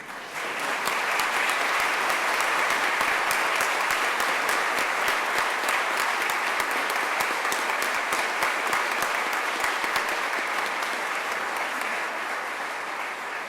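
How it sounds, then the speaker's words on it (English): Sustained applause from the audience at a Naval Postgraduate School graduation ceremony honoring faculty and staff, a dense steady wash of clapping that holds loud for the whole stretch and eases slightly near the end. "join me in a round of applause for the faculty and staff of the Naval Postgraduate School"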